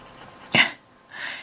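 A single sharp human sneeze bursts out up close, followed by a softer breathy exhale, with quiet room tone around it.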